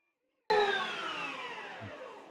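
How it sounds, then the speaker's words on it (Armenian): An electric meat grinder starts up grinding onion and pepper after meat, a sudden loud motor whine with a steady tonal hum that slowly drops in pitch as it runs, close by. "միսը աղալուց հետո մեզի հարկավոր է, որ ավելացնենք 1 գլուխ սոխ, 1 հատ բիբար ենք ավելացնում։ Ուրեմն սկսում ենք աղալ"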